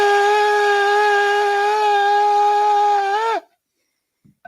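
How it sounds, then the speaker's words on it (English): A shofar is blown in one long, loud, steady blast of about three and a half seconds that bends and breaks off at the end, followed by silence and a faint click. "I just realized that I didn't play my shofar so far."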